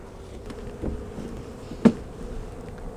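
Honey bees buzz steadily around a beehive after a hard freeze, with some fighting among bees from the wrong hive, a close droning hum marked by a couple of brief louder bursts.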